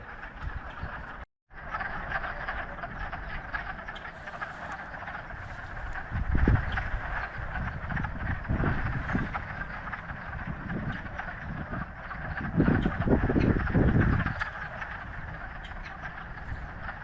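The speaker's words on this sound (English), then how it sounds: "it turns out these are the frogs. They're coming out from their hibernation." A dense chorus of frogs just out of hibernation croaks continuously from a pond, with louder bursts of close croaking swelling up every few seconds.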